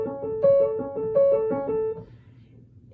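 Piano playing the repeating pattern of a piece at full speed, a steady cycle of clear, close notes with sustained tones for about two seconds before fading into quiet.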